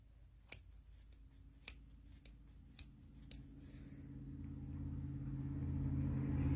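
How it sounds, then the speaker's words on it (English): Scissors snipping a hole into wool for a needle felted flamingo, about six crisp close cuts spaced roughly half a second apart, over a low rumble that swells toward the end. "I'm going to take my scissors and just cut a hole into the wool"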